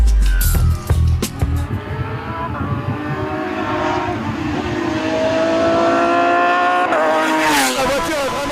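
A Renault Megane Trophy race car with a 330 hp rear-mid engine and six-speed sequential gearbox accelerates on track, its engine rising and shifting through gears with brief tire squeal, loud and close throughout.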